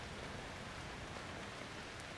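Steady rain pours down in the video game Outlast 2, a dense, even hiss with no pauses, filling the space with constant patter and no voices.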